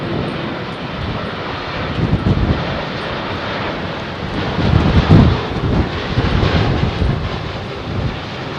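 An Etihad airliner arriving on runway 27R at London Heathrow passes overhead with a loud, rushing engine roar that swells toward the middle and fades slightly, steady and close with no speech.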